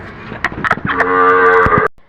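Dairy cows mooing close by on a farm, several short lowing calls building into one long loud drawn-out moo that stops abruptly, with no talk over it.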